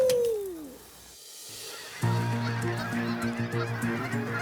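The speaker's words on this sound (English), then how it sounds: "you're going to have ducks coming in, you're going to have geese coming in" Geese call during a waterfowl hunt in Saskatchewan. A single falling call comes first, then a brief lull, then a loud, close cluster of overlapping honks that keeps going.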